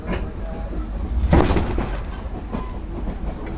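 A train travels from Colombo to Kandy in Sri Lanka, heard from inside the carriage as a steady low rumble with faint rhythmic clatter and a brief louder clunk in the middle.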